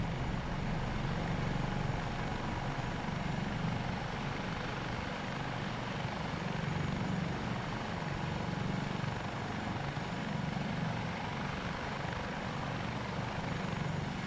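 A Dauphin AS365 helicopter hovers in the Microsoft Flight Simulator 2024 game, its steady, loud rotor and turbine drone continuous and unbroken throughout with a throbbing low beat and no talking.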